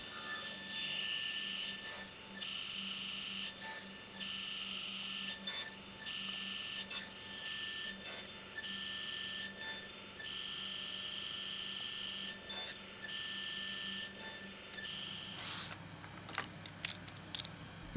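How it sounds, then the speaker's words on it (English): Steady table-saw rip cut through thin wood spline strips using a Rockler thin rip jig with a ball bearing guide, a continuous whining buzz with rhythmic pulses that ends abruptly near the close. "I cut the spline strips with this thin rib jig from Rockler."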